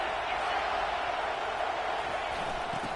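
Steady roar of a stadium crowd at a football game, loud and continuous throughout, with a broadcast commentator talking over it.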